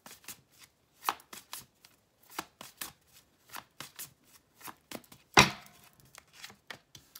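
Tarot cards are shuffled close up in a quiet room, a string of soft, quick papery riffles and taps in irregular bursts, with one louder slap near the end.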